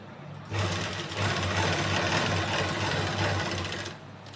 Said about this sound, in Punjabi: ਫਿਰ ਆਪਾਂ ਇਸ ਤਰ੍ਹਾਂ ਮਸ਼ੀਨ ਚਲਾ ਲੈਣੀ